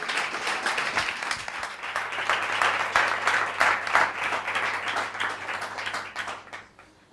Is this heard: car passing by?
no